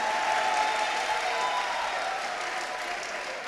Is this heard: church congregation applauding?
yes